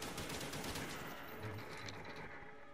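Rapid gunfire rattles in the zombie video game Call of the Dead, a quick string of faint shots early on that thin out into a softer mechanical background.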